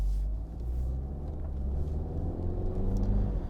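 A 2010 Audi A5 Quattro all-wheel drive car driving with high mileage, heard as a steady low engine and road rumble from inside the cabin with no talking.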